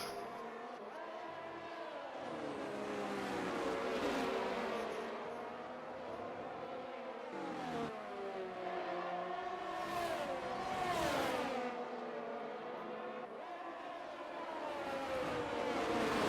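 Several race cars overtake on the Portugal circuit in a racing video game, their engines whining and shifting pitch as they rise and fall together, moderately quiet and steady throughout.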